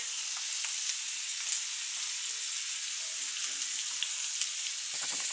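Onion, bell pepper and carrot fry in a pan as a soft, even sizzle with light crackles and an occasional faint stir, heard close but at low volume.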